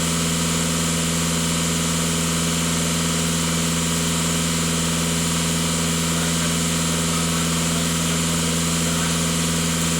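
A VW Passat B8 with a DPF idles with a steady, unchanging low hum and close mechanical drone, with no voices over it.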